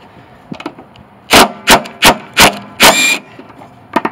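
A cordless impact wrench with a 14mm socket hammers at the wheel bolt of a Honda lawn mower in five loud, close bursts, each a rattling burr separated by short pauses.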